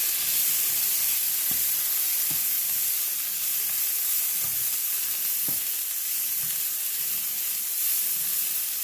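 Asparagus frying in a pan at a campsite, a steady loud sizzle and hiss throughout with a few faint knocks of a utensil against the pan.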